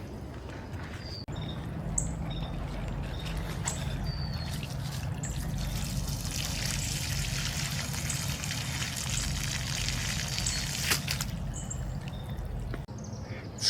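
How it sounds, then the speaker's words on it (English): A steady, continuous trickle and wash of water as an abandoned swimming pool in Florida drains through a pump, with faint bird chirps scattered over it and no voices. "So we'll see how much progress we make in draining the pool."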